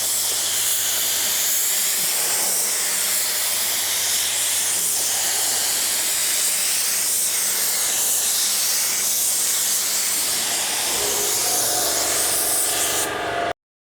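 Spray gun laying down clear coat at a half trigger pull in cold conditions, a steady close broadband hiss running continuously for most of the clip before cutting off at the end.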